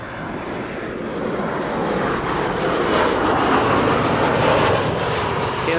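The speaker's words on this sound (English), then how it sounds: "KLM 737-700. Arriving from Edinburgh." KLM Boeing 737-700 arriving from Edinburgh and landing at Amsterdam Schiphol, heard from a field beside the runway as a loud, broad jet-engine roar that swells and stays strong throughout.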